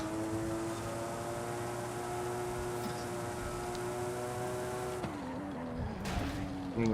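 A 2002 Nissan Skyline GT-R V-Spec II racing in a driving game, its engine holding a steady high drone before shifting and dropping in pitch near the end, with faint tire noise and no talk.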